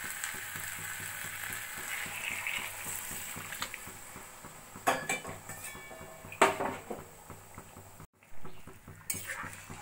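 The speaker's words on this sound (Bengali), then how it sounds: "এবার দিয়ে দেবো আমি গরম জল।" Hot water poured into a pan of sautéed rice and chana dal for khichuri, with clinks of pots and utensils, stirring and a soft sizzle over steady kitchen noise, a few sharper clatters near the end.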